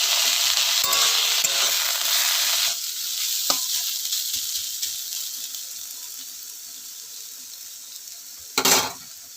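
Chopped carrots hiss and sizzle in hot mustard oil with lightly fried potato, a loud steady fry that gradually softens, broken near the end by a brief sharp clatter.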